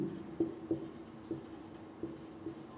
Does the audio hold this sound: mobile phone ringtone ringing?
no